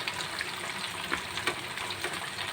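Chicken pakoda sizzling and frying steadily in hot oil over a high flame, a dense continuous crackle with brief louder pops, close and alone.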